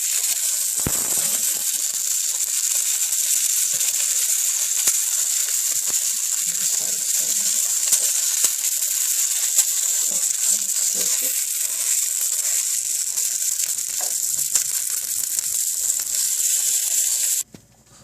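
Beef patties (kutabi) sizzle steadily in oil in a pan, a loud continuous frying hiss running throughout with faint clicks and crackles, cutting off abruptly at the end.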